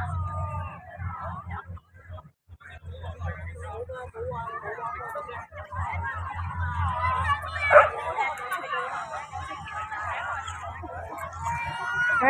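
A dog yips and whimpers repeatedly in a city waterfront park in Hong Kong, mid-distance, over steady crowd babble and people talking nearby.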